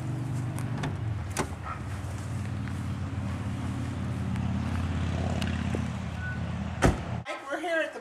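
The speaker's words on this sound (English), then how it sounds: "we're going to jump in the truck here and see you there." A truck cabin rumbles with a steady low engine drone on the drive to a barn, with a few sharp door or handle clicks and knocks, then a sudden cut to a brief quieter scene at the end.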